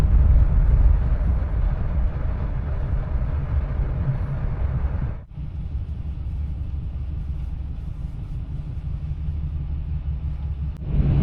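Inside a passenger train travelling from Sydney toward Brisbane, a deep continuous rumble and rolling road noise fill the carriage, dipping sharply for a moment midway before resuming at a steady level.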